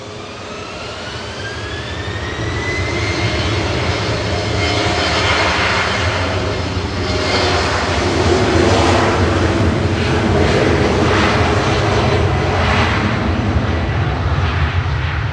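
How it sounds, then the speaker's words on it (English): An Air Dolomiti Embraer 195 jet flying for Lufthansa to Frankfurt at Manchester Airport builds to a loud, close engine roar with a rising turbine whine, holding strong and steady throughout. "Operating for Lufthansa over to Frankfurt with flight 941, that's Air Dolomiti, with an Embraer 195."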